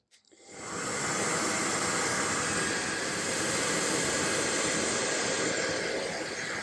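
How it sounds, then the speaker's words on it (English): After a brief click, a hair dryer switches on and blows with a steady, loud whooshing hiss that continues unchanged for several seconds. "You can just use a regular hairdryer."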